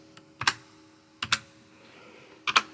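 Number and tab keys pressed on a computer keyboard while entering values in Fusion 360, three separate clusters of two sharp clicks each, close and distinct against a faint steady hum, no speech.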